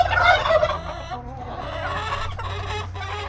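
Turkeys gobble loudly and repeatedly up close, a burst of warbling calls over a steady low barnyard hum, with a few more distant gobbles trailing after.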